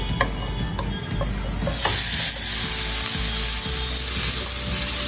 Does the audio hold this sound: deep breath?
no